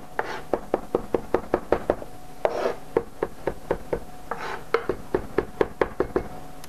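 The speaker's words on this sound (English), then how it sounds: "to finally mince the garlic" A knife minces garlic on a cutting board with a rapid, steady run of sharp knocking chops, close and distinct, broken by a couple of short scraping rubs across the board.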